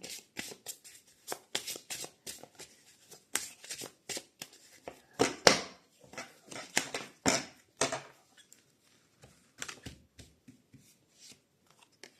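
Cards slide and snap as they are drawn from a deck for a card reading: close, crisp papery flicks and shuffles in irregular bursts with short pauses between.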